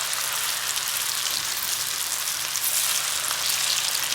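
Bread pakoda pieces coated in a rice, gram and maida flour batter fry in hot oil at medium heat, giving a steady, dense crackling sizzle close up with no talking.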